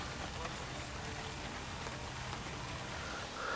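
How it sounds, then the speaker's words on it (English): Steady rain falls with no wind on a grey, overcast evening by a lake, a constant soft hiss of drops that stays even throughout with no voices. "It's grey, there's no wind, but there's rain."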